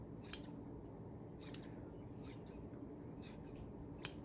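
Scissors trimming a yarn pom pom, a few sharp, quiet snips spread out against a low steady background hiss, with one crisper cut near the end.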